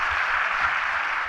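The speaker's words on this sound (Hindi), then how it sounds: "ओहो तालियां यार" Applause greets a taekwondo athlete introducing himself at an NDA/SSB preparation session, a steady broadband patter of clapping from a small group lasting just over a second, with no talking over it.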